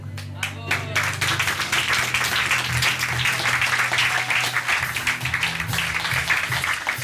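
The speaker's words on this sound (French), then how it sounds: "on peut les applaudir très fort" An audience at a science storytelling show claps loudly and steadily for several seconds, dense applause filling the hall, with a voice speaking at the start and a few words heard through the clapping.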